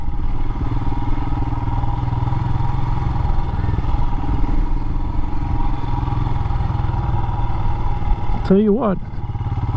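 A Royal Enfield Himalayan motorcycle rides slow, tight circles and figure eights, its single-cylinder engine thumping steadily up close at low speed while a rider talks briefly over it.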